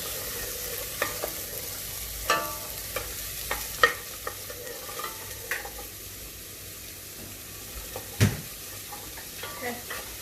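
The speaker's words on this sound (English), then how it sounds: "It's a lovely smell, that frying onions, isn't it?" Quiet frying of onions in a pan, a soft steady sizzle with occasional stirring scrapes and clinks, faint talk in the background.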